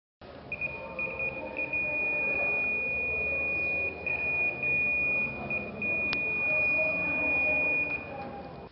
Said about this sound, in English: As you can see, with that buzzer, it means there's a continuity through this one.